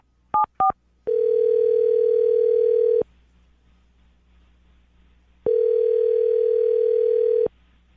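A telephone dial tone sounds twice in long steady stretches, each about two seconds, with a short gap between them. Two quick tone blips come just before the first stretch.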